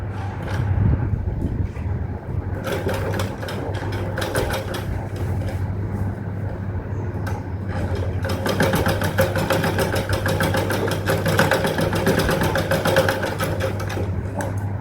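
A sewing machine stitches chudithar fabric, its steady motor hum joined by rapid needle clatter that starts briefly, pauses, then runs continuously and loud through the second half.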